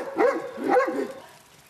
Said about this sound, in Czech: No to je můj pes, Bedřich.